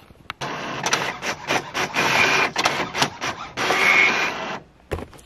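A printer runs off shipping labels for a small makeup business, giving a series of whirring, clicking mechanical bursts that start and stop in an uneven rhythm. It is close and fairly loud, with no talking.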